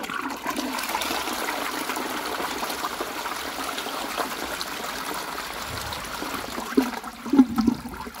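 A Qualitas Sandringham 7.5/6 litre close-coupled toilet from around 2000 flushing, a steady rushing gush of water that holds for several seconds, then gurgles and trickles as the bowl refills, close and alone.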